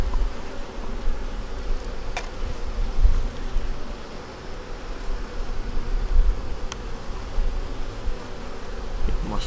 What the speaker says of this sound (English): With the little bees walking around down in there.